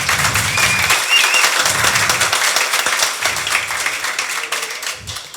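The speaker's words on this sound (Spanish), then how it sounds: "un fuerte aplauso para Olga Saucedo" An audience at a Node developer conference in Medellín applauds a speaker being welcomed, dense sustained clapping from many hands filling the room throughout, loud and near.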